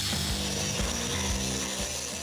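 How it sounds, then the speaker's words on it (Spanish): A pneumatic hammer chatters against welds on a 1970 Mustang body, a loud rapid mechanical rattling with sharp impacts repeating in quick bursts throughout the short stretch. "Usamos el martillo neumático"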